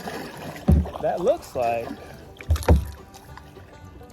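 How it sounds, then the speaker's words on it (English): Kayak paddle strokes splash and knock through still slough water at Grassy Lake, Arkansas, two distinct close strokes with soft trickling between, while someone talks over them. "I'm gonna paddle back over here real quick"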